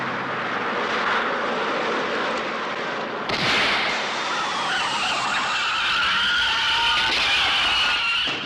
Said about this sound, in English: a car carrying a state governor and a young woman comes rushing by him